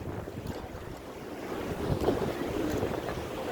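Incoming tide waves washing over a rocky beach at Cox's Bazar, a steady broadband surf wash with wind buffeting the microphone, swelling slightly louder midway and continuing without any voices.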